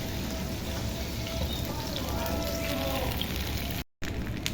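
Garlic ginger paste sizzles in desi ghee in a kadhai, a steady hissing frying crackle that holds at an even level throughout, cut off by a brief silent gap near the end.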